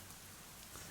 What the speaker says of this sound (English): Forecast called for an on and off rain during the day, but this is pretty gnarly.